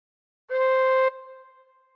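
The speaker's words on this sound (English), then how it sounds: "cover holes 1 to 6 with fingers 1 to 6 and blow gently once." A single tin whistle note played with holes 1 to 6 covered, blown gently: one steady, clear, bright tone lasting about half a second, then a softer ringing tail, played alone.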